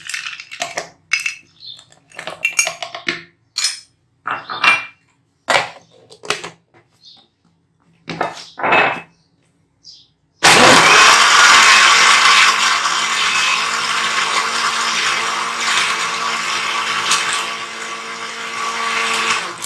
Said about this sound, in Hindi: अब हम इसमें ये क्यूब्स डाल के फिर दोबारा थोड़ा सा